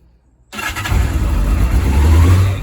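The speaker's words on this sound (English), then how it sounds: "So let's start her up." A Kawasaki Zephyr ZR750C1 motorcycle engine fires up after a half second of silence and settles into a loud, steady idle with a low, throbbing rumble that holds to the end.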